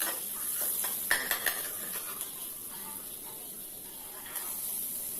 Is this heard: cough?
no